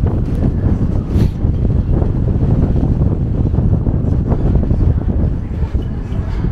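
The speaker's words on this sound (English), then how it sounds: "Got hit with a big wind gust there." Heavy wind gusts buffet the microphone outdoors in Bruges, Belgium, a dense, continuous low rumble that stays loud and steady throughout with no speech.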